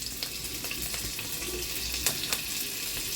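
Cumin seeds and chopped green chilies sizzle in hot ghee for a fasting-day potato dish, a steady close crackle with scattered sharp pops.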